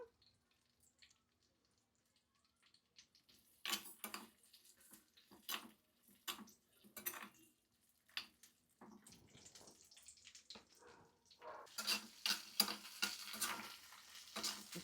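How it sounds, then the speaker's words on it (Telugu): Green chillies sizzling in hot oil in a pan for coconut chutney, soft frying hiss with intermittent stirring scrapes, growing louder toward the end. "కొబ్బరి చట్నీలోకి పచ్చిమిర్చి ఫ్రై చేస్తున్నాను"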